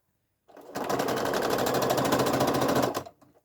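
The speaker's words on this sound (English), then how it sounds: "So I'm just going to do a 1/4 inch seam along here" A sewing machine runs a quarter-inch seam on a disappearing nine-patch quilt block, giving one steady, close, fast-stitching whir for about two and a half seconds with no talking over it.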